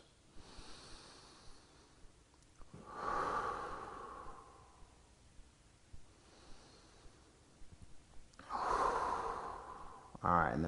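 Slow, deep breathing during a relaxing yoga stretch: two long, audible exhales several seconds apart, close and soft, with quiet rustling between them.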